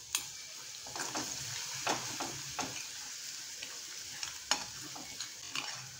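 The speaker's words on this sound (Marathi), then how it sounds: "आलं लसूणची पेस्ट छान अशी परतून घ्यायची." Ginger-garlic paste being sautéed and stirred in a pan for a cucumber korde, soft continuous sizzle with scattered scraping strokes of a spoon, quiet and close.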